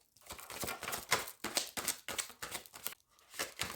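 Cards shuffled and handled for a reading, heard as a quick series of close, crisp papery flicks and riffles in uneven bursts with short pauses, no talk.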